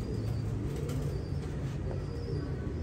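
Domestic pigeons in a crowded loft coo in a low, continuous murmur, with faint chirps and a hint of wing movement, fairly near and unaccompanied by speech.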